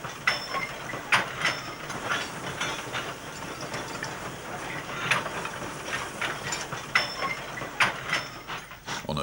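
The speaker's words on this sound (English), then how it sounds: "National Coal Board Tank No. 15, a Hawthorns build dating from 1953, heads empty internal user wagons towards the colliery." A 1953 Hawthorns-built National Coal Board tank engine, No. 15, hauls empty internal-user wagons toward a colliery, with repeated clanking and rhythmic wheel clatter over the rails at moderate distance.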